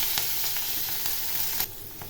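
Nigella seeds and two green chillies sizzling in hot oil left after frying hilsa fish, a continuous bright hiss with small crackling pops that drops in level near the end.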